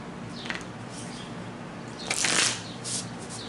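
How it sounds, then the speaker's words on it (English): A deck of tarot cards being shuffled close by, with soft repeated riffling and a louder, denser burst of card flutter near the end, no voices. "I feel like I need to keep shuffling."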